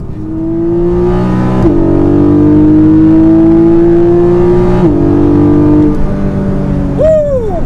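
A Porsche 718 Cayman GTS 4.0 six-cylinder engine revs loudly and steadily, its pitch climbing, dipping briefly at gear shifts, then rising again in a final sharp rev near the end.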